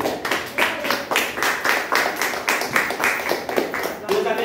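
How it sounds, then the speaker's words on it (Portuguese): Church congregation clapping in a steady rhythmic beat, a dense patter of many hands at moderate level, with no voices over it. "se você puder aplaudir o Senhor,"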